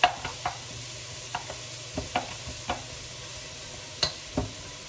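Crawfish being stirred and turned in a pot with oil, giving soft scattered scrapes and taps over a faint, quiet sizzle, with no talking.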